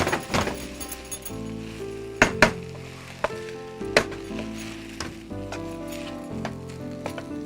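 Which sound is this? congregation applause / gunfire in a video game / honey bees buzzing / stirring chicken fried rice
stirring chicken fried rice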